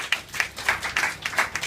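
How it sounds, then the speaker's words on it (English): A brief burst of hand clapping, several people clapping in an uneven rhythm for under two seconds. "Let's give it a round of applause."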